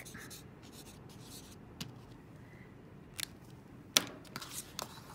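Pen scratching on the back of a paper plate, faint soft strokes with a few sharper taps, close and quiet.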